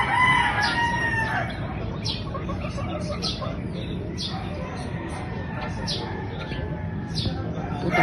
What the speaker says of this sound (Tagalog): Putak-putak ang manok dito guys.